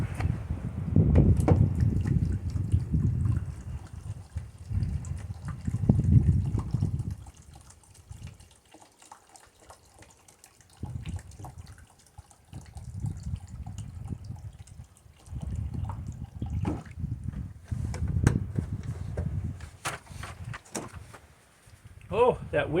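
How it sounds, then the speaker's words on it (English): Gold-bearing material from an Arizona mine site swirled in a water-filled pan: repeated sloshing and splashing surges, close and fairly loud, separated by brief quieter pauses, with wind noise in the background. "Get some water in the pan, pan this stuff out."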